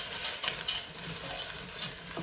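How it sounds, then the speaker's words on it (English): Vegetables and corn sautéing in a pot over medium-low heat for a seafood chowder, giving a steady soft sizzle with a few scraping stir strokes, close and alone. "they're sauteing up nicely"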